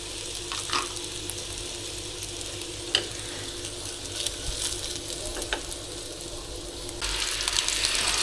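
Chicken kuotie dumplings frying in oil, a constant close sizzle with light crackling and occasional clicks and stirring, growing slightly louder toward the end.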